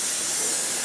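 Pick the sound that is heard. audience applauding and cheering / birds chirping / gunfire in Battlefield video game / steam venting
steam venting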